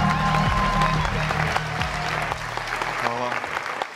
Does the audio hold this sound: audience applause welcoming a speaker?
yes